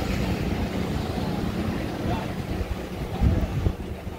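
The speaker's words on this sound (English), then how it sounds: "Quite windy out here." Ocean breeze at Pacific Beach in San Diego buffets an outdoor microphone, giving a low, uneven rumble of wind noise with a few stronger gusts near the end.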